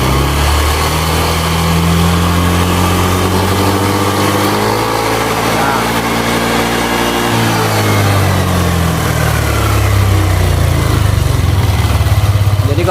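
A 2018 Yamaha Aerox scooter engine with a rough-running fault idles loudly and close, then revs up and drops back with a rising and falling drone, slightly uneven throughout.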